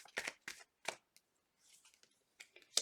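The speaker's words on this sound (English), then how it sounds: "Last shuffle." Tarot cards being shuffled by hand up close, a handful of quick papery riffling bursts separated by short pauses, with one final crisp flutter at the end.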